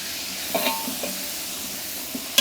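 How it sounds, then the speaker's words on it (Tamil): Onions browned with mint sizzle and fry in a large pot of kuska rice for thirty people, a soft continuous hiss broken by a few light scraping knocks of the stirring spoon, near and quiet. "இப்போ வெங்காயம் நல்லா ப்ரௌனாக வதங்கிடுச்சு. அது கூட நம்ம கொஞ்சம் புதினா சேர்த்துக்கலாம்."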